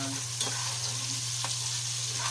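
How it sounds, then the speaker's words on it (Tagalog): Garlic, ginger and onion sizzle in a hot pan for sinigang sa miso while a utensil stirs and scrapes through them, a steady close fry with a couple of distinct stirring strokes. "naigisa na natin ang ating mga sangkap. Ayan, haluin na natin ang konti"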